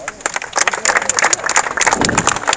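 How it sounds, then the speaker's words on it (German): A crowd gathered for a football team's 2019/2020 season-opening presentation in the rain applauds the coaching staff, with loud, dense clapping that holds steadily throughout, close and lively. "Auch die kriegen einen Applaus."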